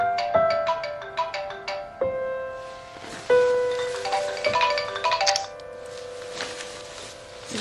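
A phone ringtone plays a repeating melodic chime pattern and keeps ringing unanswered, loud and close, with no talk over it.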